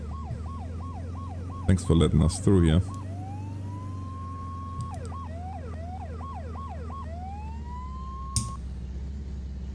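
Ambulance siren in the emergency-services game Flashing Lights, a steady wailing yelp cycling loudly throughout with a long rising whoop, broken briefly by a voice speaking over it.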